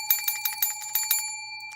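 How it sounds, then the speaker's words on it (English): A small bell rings in a series of bright, close metallic dings, about eight quick strikes in rapid rhythm, then a fading ring and one last faint ding, with no talking. "My bell."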